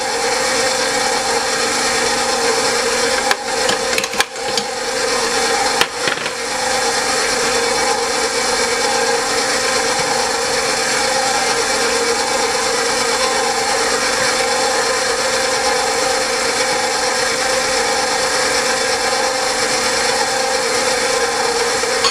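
Electric hand mixer running steadily through roll dough with egg, garlic salt and sugar, a constant loud whirring drone with a few brief knocks against the bowl near the start.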